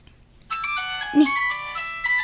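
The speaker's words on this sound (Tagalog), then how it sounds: "Ta cellphone mo." A cellphone rings with a bright, repeating electronic melody of steady tones. It is fairly close and continuous, with a brief low sound partway through.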